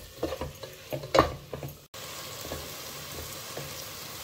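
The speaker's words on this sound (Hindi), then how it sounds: "इसको थोड़ी देर सॉटे करेंगे" Spinach being sautéed and stirred in a pan, with a spoon scraping and clinking against the metal for the first two seconds, then a steady close sizzle of frying greens alone.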